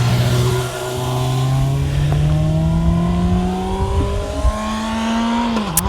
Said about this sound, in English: There's a bike taking me over right this second.